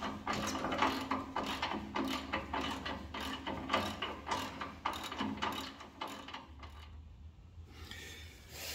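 A wrench ratchets while tightening a part on a Ford Model T, a rapid run of close, sharp mechanical clicks that stops near the end.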